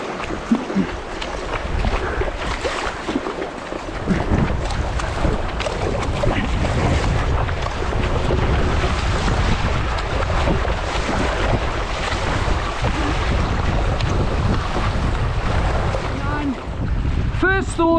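Steady wind buffeting and water rushing past an Epic V9 surfski on open water on the Millers Run, with splashing paddle strokes throughout; a brief high whistle near the end.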